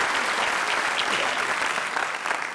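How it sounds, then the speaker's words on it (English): A seated audience at a school district's State of Schools event breaks into steady, dense applause that stays loud and even throughout, with no voices rising above it. "Please recognize them with a round of applause"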